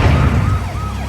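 Ambulance siren wailing amid road traffic, loud and close, its pitch sweeping up and down over a heavy low rumble of vehicles throughout the short stretch.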